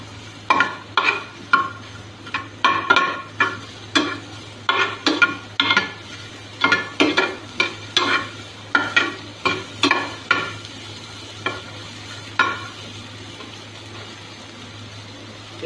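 Chunks of kohlrabi brown in a pan while a spoon stirs them in a quick, uneven run of scraping knocks over a faint steady hum, close and fairly loud.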